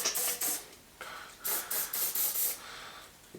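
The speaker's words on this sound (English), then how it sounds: "I'm going to spray a bit of this in there." Several short hissing bursts of an aerosol cleaner spray into a bicycle headset, close and fairly quiet, with brief pauses between them.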